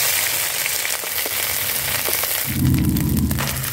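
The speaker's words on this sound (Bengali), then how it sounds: "সরষের তেল গরম কইরা দিয়া দিমু ফোড়নে সাদা জিরা আর আদা রসুন।" Cumin seeds, ginger and garlic hit hot mustard oil as a tempering, a steady loud crackling sizzle that swells into a louder, fuller hiss near the end.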